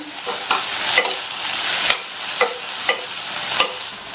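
A broad bean stir-fry with a coconut mix being stirred in a pan: a soft steady sizzle punctuated by about eight sharp spatula scrapes and knocks at a loose, uneven rhythm, close up with no voices.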